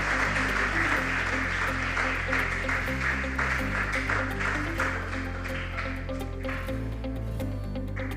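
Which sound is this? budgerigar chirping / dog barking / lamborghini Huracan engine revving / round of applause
round of applause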